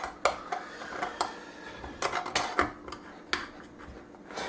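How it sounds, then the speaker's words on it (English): Plastic lid of a small case-tumbler tub being screwed down for reloading 5.7x28 brass, giving scattered clicks and rattling knocks of brass inside, close and fairly quiet with no talk. "And put your lid on. Our lid, screw her down."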